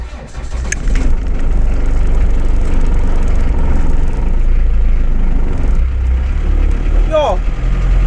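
A car driving on the way to work in the dark early morning, a steady low engine and road rumble filling the cabin throughout, with a voice speaking over it.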